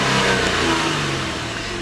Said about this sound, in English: I'll go ahead and give it a few revs so you can hear how quiet it is.